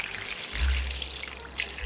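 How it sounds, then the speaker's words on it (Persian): Water runs steadily from a tap as cut potato rounds are rinsed, a close, continuous splashing trickle. "حتما اینها رو یه دور آب بکشید،"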